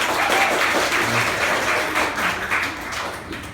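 Congregation applauding during a Sunday church worship service, a dense, steady patter of many hands clapping at fairly loud level throughout, with no talk over it.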